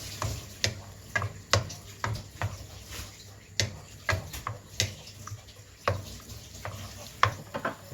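A vegetable stir fry is tossed in a pan, giving irregular scraping clicks and light knocks over a faint sizzle, each stroke short and close, with no talking.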